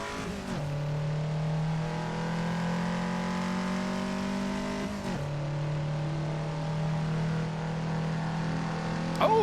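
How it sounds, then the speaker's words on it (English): A race car engine in the Assetto Corsa game drones at sustained high revs during an endurance race, with two sharp gear shifts breaking the steady whine, loud and continuous with no talk. "I like the sound of your car"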